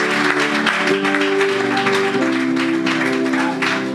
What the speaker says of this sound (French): nous acclamons le Seigneur pour sa vie